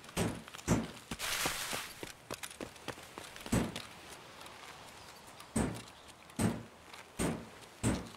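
Loud, sharp clacking hits, several at a time with gaps between, close and heavy like keys being pounded on a loud keyboard; no talking.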